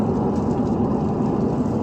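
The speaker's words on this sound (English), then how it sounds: "We were actually starting to get some hail in with the rain." Hail mixed with rain pelts a moving vehicle during a storm on a prairie drive, making a dense, continuous drumming hiss that stays loud and even throughout, with no voices.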